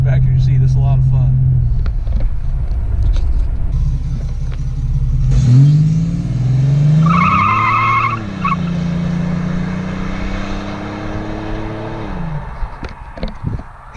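A stock car fitted with twin Flowmaster mufflers and a gutted catalytic converter idles with a deep rumble, then revs and pulls away with rising and falling engine tones. People talk over it.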